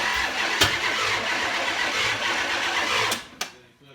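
A Can-Am Spyder three-wheeler in a garage cranking and catching: a steady mechanical whir and chug with sharp clicks, ending as the engine dies off and a final snap.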